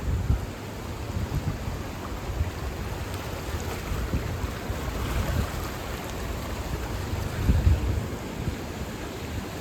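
Rushing flood water of Ackerly Creek churns through downtown Dalton, Pennsylvania, in a constant broad roar, with gusts of wind noise buffeting the microphone and occasional louder surges.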